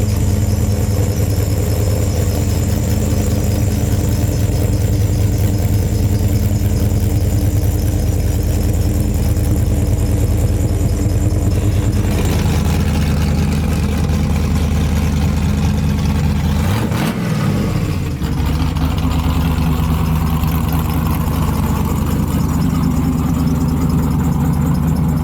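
A Ford OBS truck engine running just after start-up, a loud, steady close-up idle rumble with a brief shift in tone partway through and no voices.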